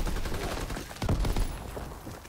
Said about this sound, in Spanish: Porque están disparando a mis compañeros.